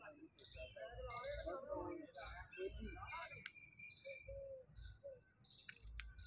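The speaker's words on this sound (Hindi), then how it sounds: "कोयल बोल रही है यहाँ पे कितनी खूबसूरत आवाज़ में।" A koel and other birds sing in Bagh-e-Jinnah park on a morning walk, with repeated bright chirps and calls over a quiet background and a voice talking softly beneath.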